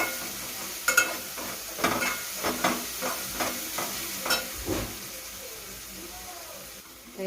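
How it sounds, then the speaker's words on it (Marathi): Ginger and garlic fry in a pan for Rajasthani gatte, with a steady sizzle under a string of spatula stirs and scrapes that fade toward the end. "थोडं भाजून घेऊ चांगलं, अद्रक लसणाचं"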